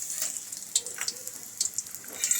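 A paste of ginger, chili and garlic sizzles in hot oil, a steady bright frying hiss with small crackling pops scattered throughout, fairly close and moderately quiet.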